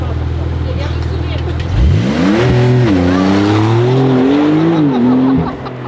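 A car engine idles, then revs hard with a rising, wavering roar that climbs and holds for several seconds before dropping off, loud and close, with a voice talking over it near the start.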